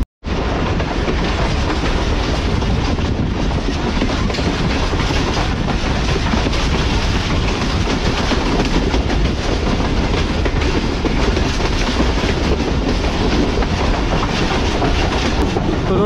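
Karakoram Express passenger train running toward Faisalabad station, a steady loud rumble with continuous clickety-clack of wheels over rail joints throughout, close and unbroken.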